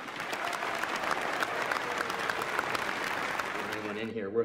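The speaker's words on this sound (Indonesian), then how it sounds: "Keputusan ini mendapat tepuk tangan bahagia dari seluruh hadirin" Applause from a courtroom audience in a film scene fills several seconds with dense, even clapping that cuts off abruptly near the end, leaving a brief low tone.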